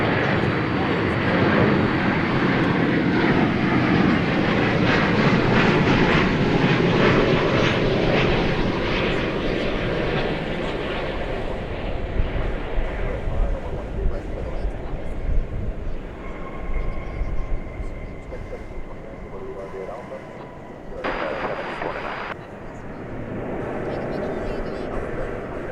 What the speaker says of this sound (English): American Flight 665 from Montrose, Colorado is next.